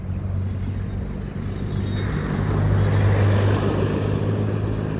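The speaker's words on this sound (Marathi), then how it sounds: "हे बघा, कचरा डेपोवर गाडी निघालेली आहे." A vehicle heads toward a smoky municipal garbage dump on a road near Dhule, its engine rumbling steadily and swelling a little louder partway through.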